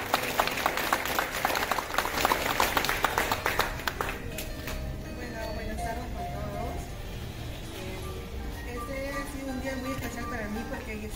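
Applause breaks out among guests at a baptism and haircut party in Lima, Peru, a dense patter of clapping for the first few seconds that gives way to a speaker talking over a quieter room.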